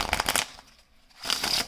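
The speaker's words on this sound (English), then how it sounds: "Give them to your spectator, or you can do a shuffle." Playing cards for a trick are shuffled close up, two quick riffling bursts separated by a short pause.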